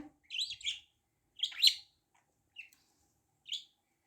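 Brief high chirps from a budgerigar come in short scattered bursts with quiet gaps, fairly faint, no voices.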